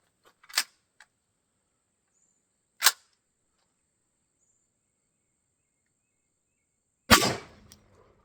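Gunshots from a .30-30 rifle and a .44 Magnum fired outdoors at water jugs, three sharp separate reports spaced seconds apart, the last one loudest with a short ringing tail, with silence between and no talk.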